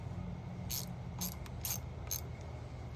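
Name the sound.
ratchet loosening a bolt on a 1994 Evinrude 25hp outboard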